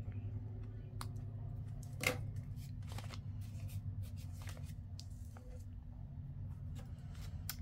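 Paper is trimmed from a 12x12 paper journal with soft, faint snips and rustling, a few sharper cuts standing out over a low background hum.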